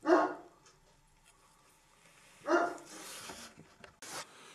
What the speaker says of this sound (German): der Hund bellt.